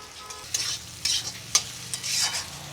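A bottle gourd peel curry seasoned with pepper powder is stirred in a pan, with a few distinct scrapes of the spoon over a low, gentle sizzle, close up.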